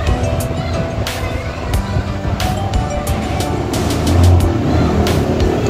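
A freshly cleaned stock electric fan running after a WD-40 treatment, a steady whirring hum with airflow rush, a few clicks from its controls, growing slightly louder near the end.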